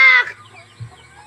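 A chicken lets out a loud, close burst of clucking at the start, then fades, with a softer low cluck near the end over quiet background.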